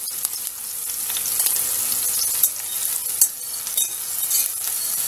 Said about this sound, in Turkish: Şimdi gördüğünüz gibi sivri biberlerimi şöyle şu şekil pişiriyorum.